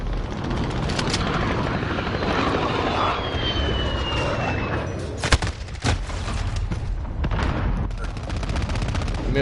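Helicopter roaring steadily through a video game firefight, its rotor wash carrying the whole time beneath bursts of gunfire and sharp impacts, with no voices.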